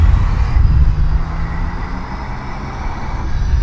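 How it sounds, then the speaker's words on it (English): A Delta Airbus A319 airliner approaching to land at Toronto Pearson Airport makes a steady, loud low engine rumble and roar with no talk over it. "A319 coming in Delta 883 from Atlanta."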